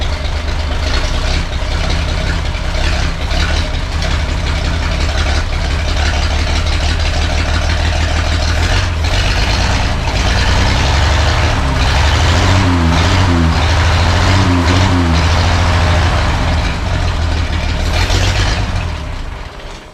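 A carbureted engine idles with an exhaust leak after the carburetor has been pumped several times, running as a loud continuous rumble with uneven, pulsing stumbles partway through and no talking.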